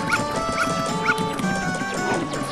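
A dog barks in The Legend of Zelda: Majora's Mask, three or four evenly spaced yelps over game music and ambience, moderately loud with no speech.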